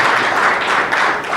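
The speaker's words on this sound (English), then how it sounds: "Warm round of applause," Audience at an LPG industry summit applauds the panelists, a dense, steady round of clapping from a large crowd that holds at an even level throughout.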